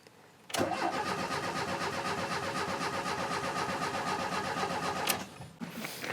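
The engine of a 36-year-old motorhome that has sat unused for a while cranks steadily for about five seconds with a fast rhythmic churning. It does not catch, and the cranking cuts off abruptly near the end.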